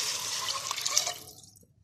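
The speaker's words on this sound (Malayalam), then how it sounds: "അപ്പോൾ 3 ഗ്ലാസ് വെള്ളം ഒഴിച്ച് കൊടുക്കട്ടോ." Water poured from a glass into a pot of vegetable biryani, a steady splashing stream that runs for over a second and then trails off quickly into silence.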